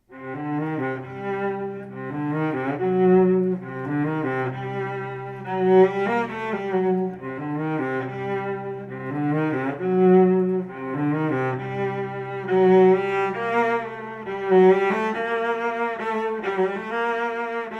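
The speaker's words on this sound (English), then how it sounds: "Cello sounds like this." A bowed cello plays a slow, sustained melody with rich low tones and smooth note changes, heard alone and fairly close.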